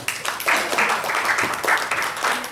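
A burst of applause from a crowd for mentors, uneven swells of clapping rising and falling over a few seconds, with cheering voices mixed in.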